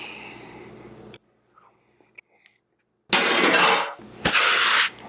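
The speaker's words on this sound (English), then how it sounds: "Time for a bite." Two loud, crunchy bites into French onion pot roast ring out after a near-silent pause, each a burst of crisp chewing noise lasting under a second.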